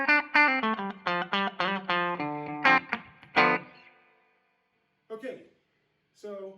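Electric guitar through a Laney LC50 tube valve amp plays a quick run of distorted notes, then rings out with reverb tails and a couple of isolated plucks.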